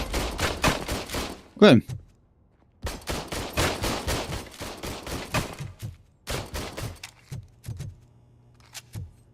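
Video game gunfire rattles in rapid bursts of repeated shots, loud and close, with short pauses between volleys, a sharp clattering hit near the start and a brief spoken word mixed in.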